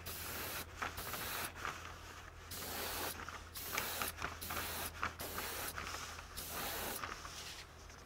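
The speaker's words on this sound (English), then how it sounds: "Sometimes an airbrush is just a couple of passes, but it can do more than what a regular paintbrush can do." Airbrush hissing paint onto an Atlas HO scale SD35 model locomotive, a steady close spray broken into several short passes with brief pauses between bursts.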